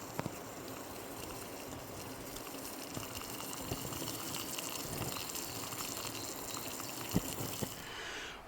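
Water boiling in a pot on a brass alcohol camping stove outdoors makes a faint, steady rolling rumble with soft bubbling and occasional small ticks, even and unbroken.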